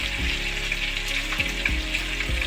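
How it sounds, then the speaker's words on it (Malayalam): Tilapia fish sizzling in a little oil in a pan, a steady crackling hiss with small pops and a few soft knocks, no voices. "നമ്മുടെ തിലോപ്പിയാണ് നമ്മൾ പൊരിക്കുന്നത്"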